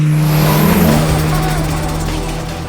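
A road rally spec Nissan Micra K11 with its engine revving, a loud close mechanical roar holding steady and then slowly easing off.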